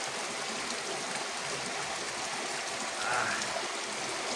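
Floodwater from a riverside river overflows and rushes past homes, a steady broadband wash of flowing water heard close and constant, with no talking in the clip.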